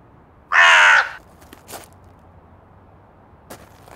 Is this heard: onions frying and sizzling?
no